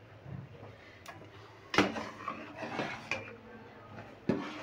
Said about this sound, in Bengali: মাঝে মাঝে একটু দুধটা নেড়ে দিচ্ছি।